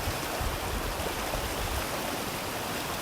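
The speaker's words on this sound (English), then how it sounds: "The sound of this river is incredible." A river rushes steadily in an outdoor setting, a loud, continuous broadband roar of flowing water with no breaks and no voices over it.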